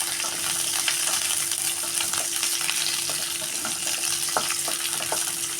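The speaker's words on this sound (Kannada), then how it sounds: "ಇವಾಗ ನಾನು ಕಟ್ ಮಾಡಿಟ್ಟಿರೋ ಈರುಳ್ಳಿ ಹಾಕ್ತಾಯಿದ್ದೀನಿ ಹಾಕಿಬಿಟ್ಟು ಈ ಥರ ನಾವು ರೋಸ್ಟ್ ಮಾಡ್ತೇವೆ" Chopped onions and curry leaves roast in a pan for a tondekai palya, giving a steady soft sizzle of frying with faint scraping stirs and small crackles throughout, and no voices.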